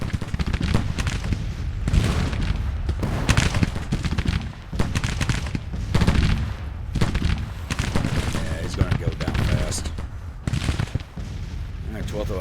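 Massed musket volleys trade back and forth from infantry brigades firing in the open during a Grand Tactician Civil War battle, a dense continuous crackle of distant and near shots with booming artillery mixed in and a voice talking over it.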